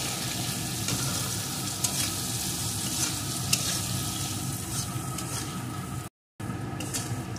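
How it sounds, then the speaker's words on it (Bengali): Steady, continuous sizzling of spices with turmeric and salt frying in a pan, with a few faint clicks of stirring and a brief drop to silence near the end. "এখন এগুলোকে ভালো করে একটু ভেজে নেব।"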